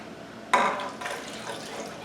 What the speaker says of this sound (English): I'm going to add it to the 13 cups of hot water